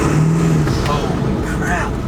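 A Ford 7.3L Powerstroke diesel engine runs nearby with a loud, steady, low rumble, while a person talks over it.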